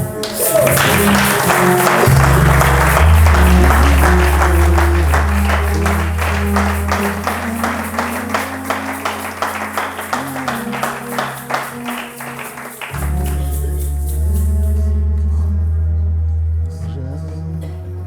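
A church congregation claps and cheers over loud live worship music, with a steady bass and drums driving underneath; the applause swells throughout and continues dense after the band drops briefly near the end.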